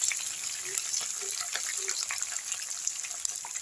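Onions frying in a pan with curry leaves for a broad bean and drumstick stir-fry, a steady soft sizzle and crackle throughout, close and fairly quiet, with a few faint clinks.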